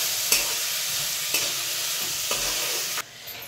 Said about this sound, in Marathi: आता मिरच्या परतून घ्यायचं आहे ना का.